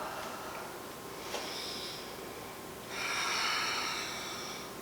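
Yoga breathing, a soft nasal inhale followed by a longer, louder airy exhale, close and alone with no talk.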